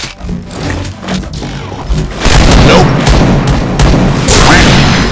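Rapid gunshots ring out in the first-person shooter Point Blank, with sharp bursts of fire and booming shots layered over continuous in-game noise, loud and close.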